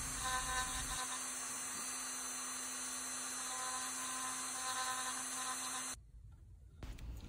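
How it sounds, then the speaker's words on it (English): A Dremel rotary tool with a 108 bit carves a fine line in wood, a steady high whine running loudly and evenly for about six seconds before cutting out, then briefly restarting. "used the Dremel 108 bit to finish the really fine line around the outside"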